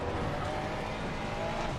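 Race car engine in a sim racing game braking into a corner at Zandvoort, a short burst of dense, loud engine roar with a slight tire rasp.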